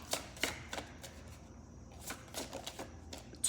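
Cards are shuffled and handled during a tarot-style reading, giving several quick riffling bursts and soft taps, close and quiet, with no speech.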